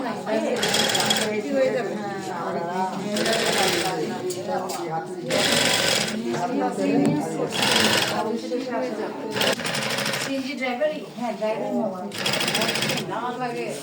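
A sewing machine stitches straight along both sides of a piece with no glue applied, running in repeated short bursts of a few seconds each while a voice talks continuously over it.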